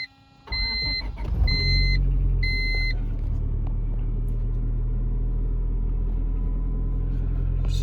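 A Honda Civic engine turns over and settles into a steady, close idle rumble, with a few electronic dashboard beeps chiming over it early on.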